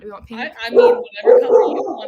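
Dogs bark and yip in short bursts close by while people talk over them.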